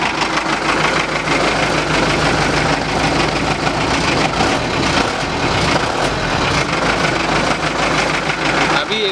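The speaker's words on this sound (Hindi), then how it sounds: "इसके अंदर कौन सी गाड़ी का इंजन लगा हुआ है, आवाज़ सुनो फिर बताना" A modified Nissan 1 Ton truck idles close by, its engine giving a loud, steady, throbbing rumble with no breaks throughout.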